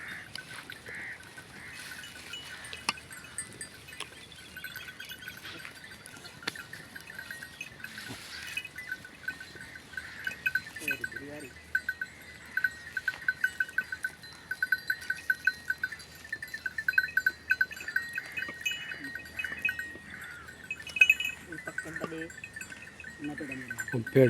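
Sheep and goats roam an open wild area outdoors where shepherds are making tea, with scattered distant bleats and faint clinking bells over quiet background, while people talk at intervals.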